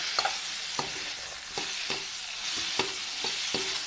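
Onions sautéing in a pan for sabudana khichdi, with a steady soft sizzle and repeated sharp scrapes of a spatula stirring at an uneven pace, close up and with no voices.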